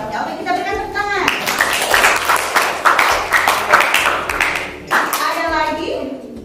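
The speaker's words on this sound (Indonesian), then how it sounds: "kita berikan tepuk tangan." A classroom of children breaks into loud applause, many hands clapping together for several seconds before it fades.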